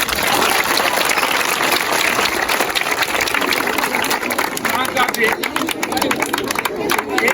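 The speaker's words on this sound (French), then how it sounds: "Alors applaudissez pour l'IF de Pété" An audience at a school cleaning day at Lycée de Madina Ndiathbe applauds continuously, a dense, even patter of many hands lasting several seconds, with voices mixed in.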